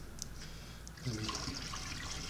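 Water pours into a container for lemon mead, a close, steady splashing rush that starts partway through and continues to the end.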